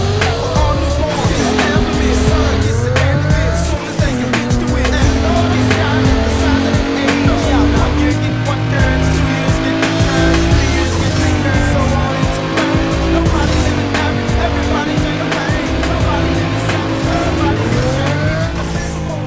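An old, beat-up car is driven in GTA San Andreas, its loud engine droning steadily throughout, with squealing tires and skids over game background sound.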